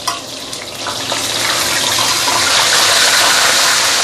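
Hot oil hisses and sputters loudly and steadily around a piece of fish being deep fried, building into a dense splattering roar with no talking.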